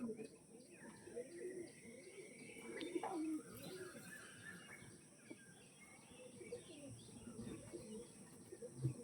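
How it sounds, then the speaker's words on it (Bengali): Pigeons coo in a busy loft of Andhra-type birds, soft low calls repeating under background chirps and other bird noise, with a person's voice faintly present at times. "প্রত্যেকজনের প্রিয় পায়রা।"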